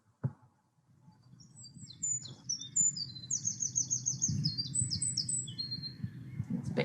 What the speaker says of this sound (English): wren, I just thought it sounded like a robin on speed, basically, with a trill at the end